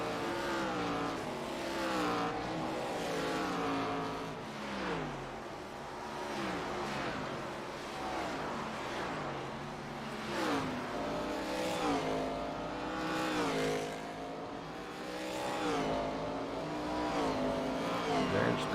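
Race cars on a road course scream past in repeated waves, engines revving up and down through gear changes, loud and continuous with several cars overlapping.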